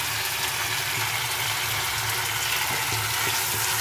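Goat liver frying in oil in a frying pan, a steady close sizzle with soft crackle running through the whole stretch, with no voices.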